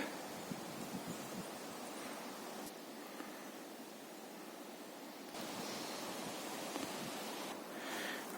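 Faint wind in a forest in Khmelnytskyi region on a cold October morning, a soft steady rushing hiss with slight swells and gusts, no voices.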